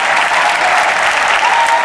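A large crowd claps for the homecoming court representatives at a 2013 ceremony, a dense, even wash of applause filling the space, loud and unbroken throughout.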